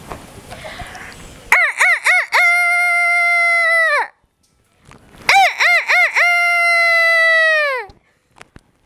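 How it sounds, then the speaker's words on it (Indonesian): A rooster crows twice in the morning, close and loud, each call opening with short choppy notes and then a long sustained tone, with a brief quiet gap between the calls and faint background noise at the start. "ayam berkokok"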